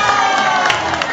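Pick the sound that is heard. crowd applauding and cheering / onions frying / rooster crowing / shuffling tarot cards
crowd applauding and cheering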